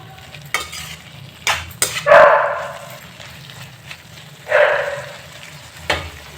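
Aloo methi curry in a pan with butter frying over high heat, stirred in a few sharp scraping bursts over a soft background sizzle, close by and moderately loud, no talking.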